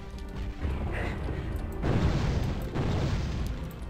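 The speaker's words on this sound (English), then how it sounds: "Dude, I didn't even hit him directly and he exploded." An enemy explodes after a laser sword attack in the game Hexen, giving a heavy booming crash with a rumbling tail, followed by a second loud burst, with game sound continuing underneath.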